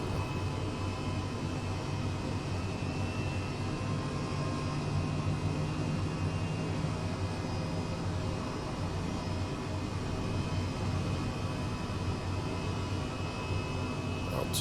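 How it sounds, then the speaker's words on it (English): Engine 2 of an H135 helicopter starting up in the FS2020 flight simulator, a steady loud turbine whine and broadband rushing roar with a faint rising tone, continuous and even throughout, with no talking. "Waiting on successful startup of engine 2."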